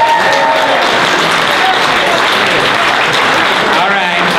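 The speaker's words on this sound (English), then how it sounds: "You guys give the convention a round of applause." Convention audience applauding at a charity auction and closing ceremony, a dense, steady wash of clapping from a large crowd that fills the whole stretch at high, even loudness.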